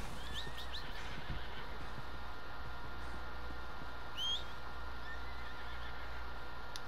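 A horse whinnies and neighs in Red Dead Redemption 2 over a steady low game ambience, with a sharp high chirp partway through; no talking.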